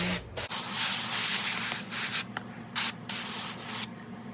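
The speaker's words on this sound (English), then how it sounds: "I'm just gonna spray this paper bag down just to help with its decomposition." A spray bottle hisses water in several short bursts against a crinkly paper bag in a worm bin, close by, with faint rubbing and handling sounds between sprays.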